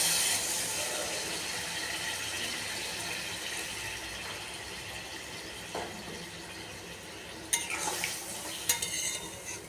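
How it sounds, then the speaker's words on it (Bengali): Water goes into a simmering potato and prawn curry in a pot, over a soft, constant bubbling sizzle, with a brief louder splashing and stirring burst toward the end. "এবার আমি দেবো পরিমাণ মতো জল।"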